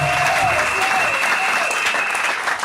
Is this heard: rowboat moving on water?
no